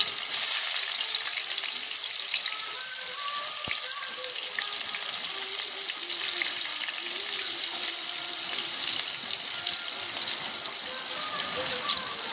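Chopped onions sizzle steadily in hot oil with panch phoron, a continuous bright frying hiss throughout, close and fairly loud with no talking.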